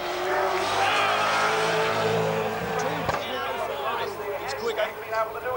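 A touring race car at the 1997 Bathurst 1000 braking hard into Primus corner, its engine note dropping and shifting, heard loud but with a commentator talking over it.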